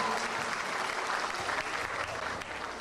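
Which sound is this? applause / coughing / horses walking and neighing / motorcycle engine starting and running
applause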